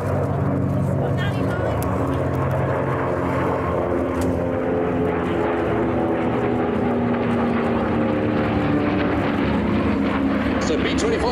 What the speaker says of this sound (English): Mustang on the left, Corsair on the right, P-38 at the back